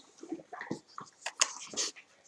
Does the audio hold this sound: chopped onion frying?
no